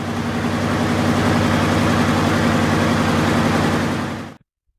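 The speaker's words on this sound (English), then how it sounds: "The exhaust note of a 20V149 underload wasn't just loud, it was seismic." A Detroit Diesel 20V149 two-stroke V20 diesel engine drones loudly and steadily under load with a deep, rapid pulsing exhaust throb, then cuts off abruptly near the end.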